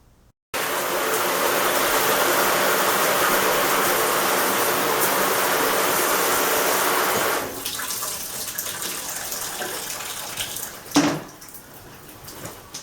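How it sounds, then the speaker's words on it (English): A home shower head on the hot water setting gushes loudly and steadily for about seven seconds, then drops to a softer spray with a brief clatter near the end. "there's a lot of water coming out when I have it on the hot water setting in my shower"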